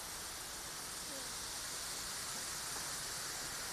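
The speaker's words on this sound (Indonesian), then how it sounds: "Itu air terjun nah." A waterfall at the Kuala Lumpur bird park sends up a steady, broad rushing hiss that stays even throughout, with no talk over it.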